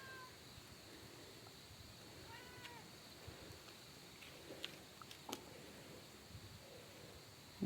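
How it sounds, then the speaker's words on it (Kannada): A house cat meows faintly a few times at morning milking time, short quiet calls over a steady low background hum with no one talking. "ನಮ್ಮ ಬೆಕ್ಕು ಹಾಲು ಕರೆಯೋದೇ ತಡ, ಮಿಯ ಅನ್ಕೊಂಡು ಬಂದ್ಬಿಡುತ್ತೆ."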